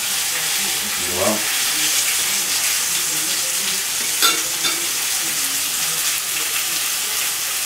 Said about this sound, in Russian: Сковородка раскаленная, мясо уже получает какую-то корочку, вот этот вот золотистый цвет.